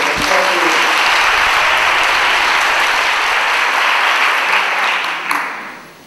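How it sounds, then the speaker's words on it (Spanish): Audience applause for José, the youngest dancer in a group of traditional Asturian dancers, at a book presentation. The clapping is loud and steady throughout, thinning out near the end. "Un aplauso para José"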